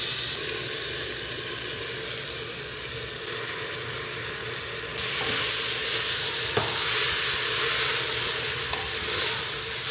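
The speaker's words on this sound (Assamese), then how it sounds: "চাউলখিনি দিয়াৰ পাছত অকণমান সময় ভাজিব লাগিব" Continuous sizzle and hiss of rice frying in a pan for vegetable pulao, growing louder and brighter halfway through, with faint scraping clicks; no one speaks.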